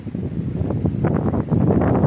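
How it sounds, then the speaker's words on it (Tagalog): Strong outdoor wind buffets the microphone in a steady, rumbling rush with gusty swells, loud and close, no voices. "malakas pa ang hangin dito"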